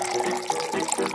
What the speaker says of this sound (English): Pour the Coke.